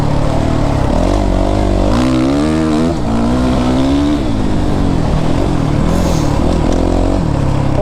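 A Suzuki RMZ450 dirt bike is ridden hard, its single-cylinder engine revving up and down through gears in a loud, close, continuous rasp with rising and falling pitch sweeps.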